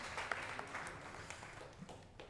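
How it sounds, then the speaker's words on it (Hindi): An audience claps at an open mic poetry event during the NTA Awards 2024. The applause is faint and distant, a soft, steady patter for about two seconds with no talk over it. "फिर कम हो गई आपकी तालियां।"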